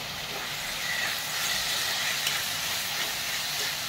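Onion and finely chopped capsicum sauté in a pan for pav bhaji, giving off a steady, even sizzle and hiss close by with no talking.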